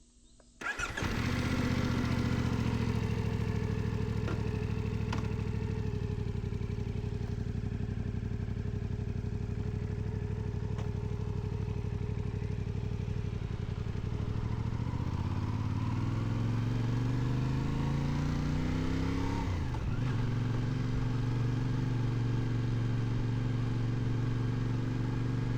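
Motorcycle riding along a road in Korea, its engine droning steadily and close, with a rising then falling pitch sweep near the end as the bike shifts speed; no talking.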